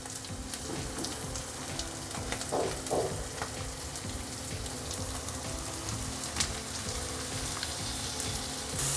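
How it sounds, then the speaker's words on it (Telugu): Mutton pieces frying in hot oil with spices for a mutton and potato curry. The sizzle is dense, continuous and close, with no talking. "ఇప్పుడు మనం మటన్ వేసుకుందాము."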